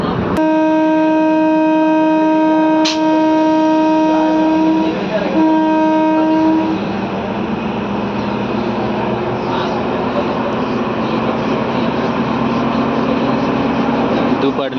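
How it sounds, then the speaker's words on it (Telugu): A DEMU passenger train departing Dupadu station on the Kurnool–Guntakal route sounds a loud, sustained horn for about six seconds, then its rumble and wheel noise continue steadily as it pulls away. "దూపాడు నుంచి మన ట్రైన్ బయలుదేరింది."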